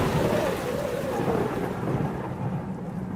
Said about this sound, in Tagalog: Parang lalong lumakas ang ulan